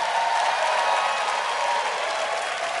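Sustained applause from a church audience for a gospel band at a Christmas service in a cathedral, a dense, steady wash of clapping that fills the space throughout without letup.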